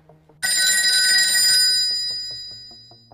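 A telephone rings once in a single loud burst of bell tone that then fades, heard alone in an otherwise quiet room with no talk.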